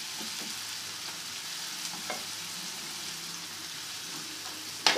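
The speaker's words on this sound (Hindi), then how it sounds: "सी ब्राउन करेंगे प्याज को, बहुत ज़्यादा ब्राउन नहीं करेंगे" Onions browning in a pan for bread Manchurian give a steady, even frying hiss that runs throughout, with a few faint clinks and a brief louder scrape at the very end.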